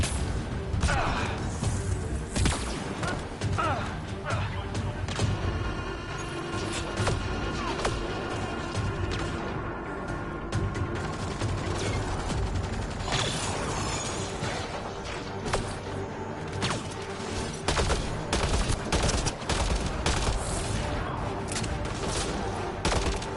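Gunfire in the video game Mass Effect Andromeda: a dense, continuous clatter of shots and impacts runs through the whole stretch, loud and busy, with crashes layered over a steady rumble.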